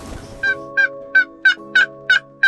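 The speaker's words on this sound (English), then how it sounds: "We had gobbling." Wild turkey toms gobble in a rapid string of about seven short, evenly spaced bursts over a low steady hum, loud and fairly close during a spring turkey hunt.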